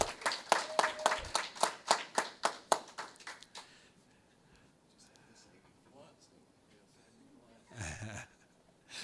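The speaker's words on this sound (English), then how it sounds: "And let's give a big round of applause for Mr." At a career and technical education signing day, a small audience claps for a student who has signed into a welding program: a few seconds of brisk, fairly close clapping, then a quiet room with murmurs and a brief rustle.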